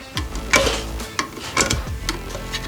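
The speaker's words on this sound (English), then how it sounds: "give it a quick mix" Paint being stirred in an opened can during a kitchen update, a handful of quick scraping, swishing strokes close up, with brief clicks and knocks between them and no talking.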